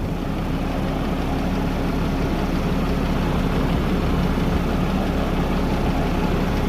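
A steady, heavy tractor engine drones continuously at close range, low and rumbling with no pauses or voices, in an apricot orchard during spraying.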